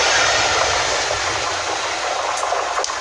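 A train rumbles past at Westerfield station, a loud, continuous roar with hissing noise throughout, close and steady with no voices.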